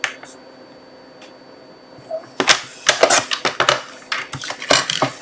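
Card stock being cut to five and a quarter inches on a paper trimmer, with a quiet start followed by a run of sharp, rapid clicking and scraping strokes close by.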